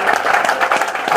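A church congregation claps and acclaims the Lord at a French-language sermon, a short burst of brisk, steady applause from a crowd filling the room.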